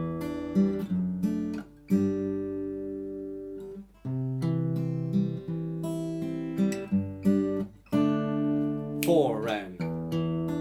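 Plucked guitar chords strummed in a steady pattern for the verse of a song, ringing notes changing every couple of seconds, with a short bent note near the end.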